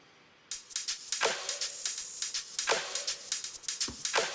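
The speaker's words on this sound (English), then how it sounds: "And the same hi-hat loop as earlier." Looping electronic hi-hat pattern from an EDM drop in Logic Pro, crisp rapid ticks in a steady repeating rhythm with a few broader claps layered in, loud and close with no talking.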